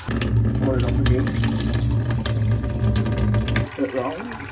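Water pours over soybeans for soy milk, a strong, close, steady rush that stops abruptly toward the end, followed by a few gurgles, with a voice speaking over the flow.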